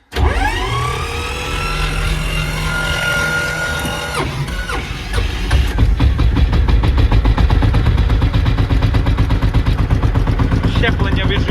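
A Shifeng tractor engine cranks over in snowy cold, its starter whirring with rising and falling tones for about four seconds before the engine catches and settles into a loud, steady diesel clatter.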